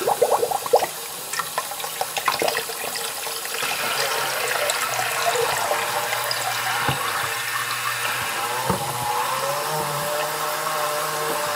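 HF battery fluid transfer pump malfunctioning while pumping water, giving a steady liquid gurgling and splashing hiss with a low motor hum, a few sharp clicks and knocks early on, no voices.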